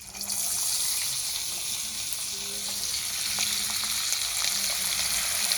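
Dhoka lentil cake pieces fry in oil in a pan, a close, continuous crackling sizzle that holds steady throughout with small pops and no talking.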